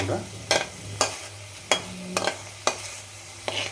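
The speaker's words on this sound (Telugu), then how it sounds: "ఇప్పుడు కొద్దిగా పసుపు వేసి కలపాలి" Poha upma being stirred with turmeric in a pan, a spoon scraping the surface in about six short sharp strokes at a steady rhythm over a low background hum, close and fairly clear with no voices.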